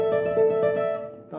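A requinto guitar rings out a short passage of plucked notes that sustain and fade, played close and alone.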